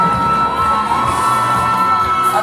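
A hall audience and fans at a student beauty pageant cheer and shout in a dense, steady roar, with whoops throughout and no clear speech.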